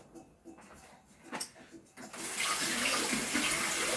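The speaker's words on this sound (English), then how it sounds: "I'm going to rinse off my tasting spoons" Tap water runs into a sink to rinse tasting spoons in a home kitchen. A few clinks come first, then the water flows steadily and fairly loud to the end.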